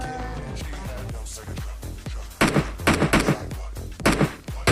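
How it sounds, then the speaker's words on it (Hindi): Gunfire in a battle royale video game, a bot firing from a warehouse, with repeated sharp bursts of shots in the second half over a low rumble, preceded by quieter game sounds and voice. "लेकिन काफ़ी देर से बॉट फायर करे जा रहा था।"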